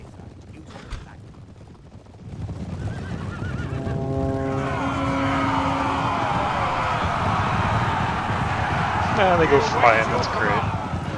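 Cavalry charge an enemy in Medieval II: Total War, with horses whinnying over a swelling rumble of battle noise that grows louder toward the end, while a voice talks over it.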